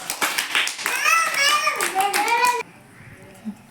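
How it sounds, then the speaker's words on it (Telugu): Children clapping their hands in a classroom, quick claps mixed with high young voices speaking and singing, ending abruptly into near silence. "క్లాప్స్ పెట్టండి మీరు అందరు."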